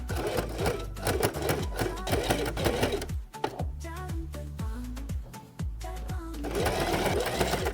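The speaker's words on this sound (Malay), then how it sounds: "Kita akan jahit sampai ni ke atas semula. Jom jahit." A sewing machine stitches a kurta lapel extension, its fast, steady mechanical whirr running close and loud through the whole stretch with brief dips in speed.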